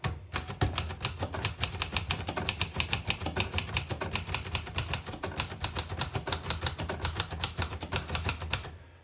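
A 1934 Remington Portable Model 5 vintage typewriter typing at a steady, brisk pace, each keystroke a sharp mechanical clack in a dense run lasting several seconds, close and alone without any voices.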